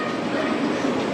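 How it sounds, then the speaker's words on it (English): A model train runs along a museum display track, a steady rumbling rolling noise with light clatter, continuous and moderately close. "There's the train."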